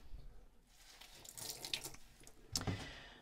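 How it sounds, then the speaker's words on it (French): Sponge rinsed under a running tap, a faint wash of flowing water close by with a few louder splashes as the sponge passes through the stream. "On va rincer l'éponge."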